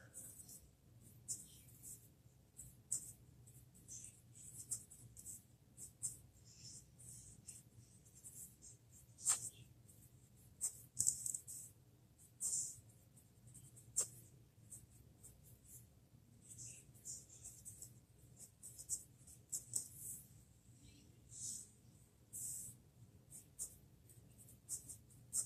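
Wing Sung 233 fountain pen nib scratching softly across paper while a sentence is written, faint intermittent strokes over a quiet background hiss.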